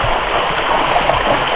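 Steady broadband bubbling and rushing of water from an aerator running in a catfish pond made from a former swimming pool, a continuous close wash with no voices.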